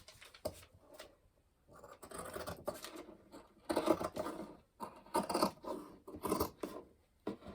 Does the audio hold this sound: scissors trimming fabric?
yes